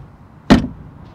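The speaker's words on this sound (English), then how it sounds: "Door open and close sound from the outside" Car door of a 2021 BMW M440i shut from outside, a single solid thud with a short decaying rattle, heard alone against quiet background.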